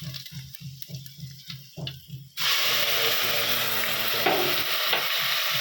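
Curry leaves hit hot oil that already holds chillies, mustard seeds and cumin, bursting into a loud, sustained crackling sizzle after a few soft rhythmic knocks.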